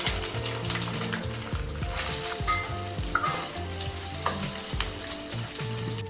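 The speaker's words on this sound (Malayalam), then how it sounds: "തേങ്ങാക്കൊത്ത് ചേർത്ത് കൊടുക്കാം" Coconut slices sizzle in hot coconut oil in a heated pan, a steady crackling fry with occasional scrapes and stirring clinks, close and alone.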